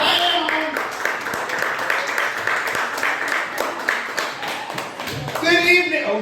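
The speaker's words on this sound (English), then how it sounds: "I got two people clapping." Sparse clapping from a small audience at a live comedy night, a thin patter of a few hands close to the microphone while a comedian keeps talking over it.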